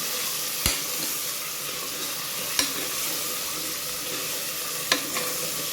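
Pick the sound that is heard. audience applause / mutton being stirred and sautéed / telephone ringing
mutton being stirred and sautéed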